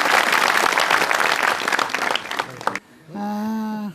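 Dense, loud audience applause fills a comedy show hall for nearly three seconds, then cuts off abruptly and a sustained tonal sound takes over.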